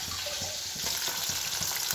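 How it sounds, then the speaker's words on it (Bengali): Fish fries in a pan on a gas stove in a home kitchen, a close, continuous sizzle and crackle of hot oil with soft, irregular stirring knocks throughout. "এই যে মাছ ভাজা হচ্ছে,"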